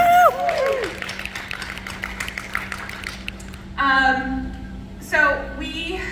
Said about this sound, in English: So round of applause for you guys for coming.